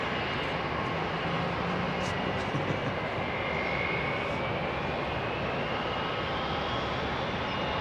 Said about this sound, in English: 767 with no winglets. Possibly a freighter.